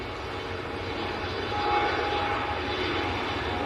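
A KLM Embraer E190 jet takes off at Manchester airport, its steady engine roar filling the air and swelling slightly in the middle before holding level, with no talk over it.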